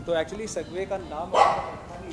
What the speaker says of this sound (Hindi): देखो वहाँ पे कुत्ता भौंक रहा है,